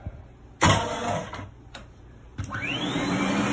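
An SC450 floor scrubber's vacuum motor starts with a sudden loud rush, then settles into a steady close whine with a rising tone, interrupted by a couple of brief clicks.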